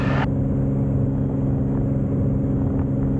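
A small airplane's engine runs at full power on the takeoff roll, a steady loud droning hum with a harmonic buzz heard from inside the cockpit.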